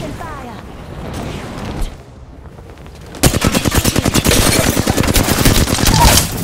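Rapid automatic gunfire from an aircraft in a video game bursts in loudly halfway through as a dense rattle of shots, after a quieter opening with voices.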